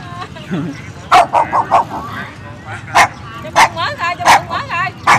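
A dog near a market in An Giang, Vietnam, barks repeatedly in quick bursts, loud and close, while a person talks to it over the barking.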